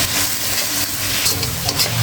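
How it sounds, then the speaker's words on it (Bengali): Ground cumin, coriander and other spices fry in oil and get stirred in a pan while preparing a quick meat curry, a steady close sizzle with soft scraping of the spoon throughout. "এখন আমি নেড়ে চেড়ে খুব সুন্দর করে মশলাটা কষিয়ে নেব।"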